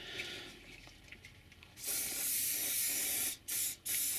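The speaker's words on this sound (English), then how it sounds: "I put a bit of hairspray on to strengthen it." Extra firm hairspray sprayed onto a model railway mould, first a few faint clicks and rustles, then a close, loud aerosol hiss in one long burst followed by two short ones.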